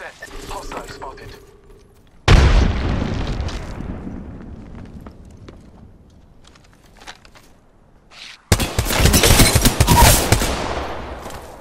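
A frag grenade in a shooter game bursts with a sudden heavy blast that rolls off into a long fading rumble, followed later by another loud burst of crackling gunfire and explosive noise, with brief game voice lines earlier.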